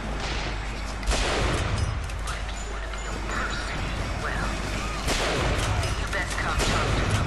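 Gunfire in Bioshock Infinite crackles in bursts of sharp shots and heavy blasts across a dense, noisy battle, with louder volleys near the start and again later.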